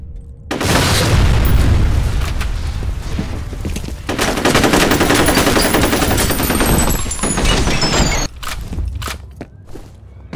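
Video game firefight in Fear combat: a loud grenade boom followed by sustained rapid machine-gun fire and scattered footsteps, close and dense, trailing into a few sharp isolated shots near the end.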